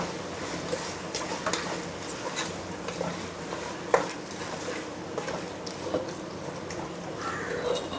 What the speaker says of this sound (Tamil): உப்பு சேர்த்தாச்சு. இப்போது கிளறிக்கோங்க.